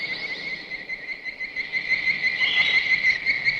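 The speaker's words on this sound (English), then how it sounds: "made by combining the sounds of birds and tree frogs, resulting in this really eerie," Steady, eerie high-pitched chirping made by combining bird and tree frog sounds, in a continuous trilling pulse, fairly quiet, with no voices.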